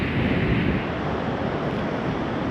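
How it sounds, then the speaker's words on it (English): Ocean surf breaks steadily at a beach near Daytona, a continuous broad wash of waves mixed with wind noise, with no talk. "Some nice waves though"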